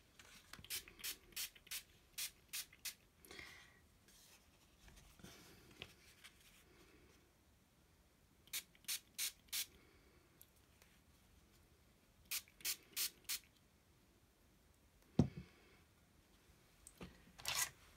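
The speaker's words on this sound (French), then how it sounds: "je vais prendre mon spray d'eau et je vais juste vaporiser comme ça" A water spray bottle misting paper for a butterfly card, several clusters of three to five quick sharp spritzes close by, separated by quiet pauses.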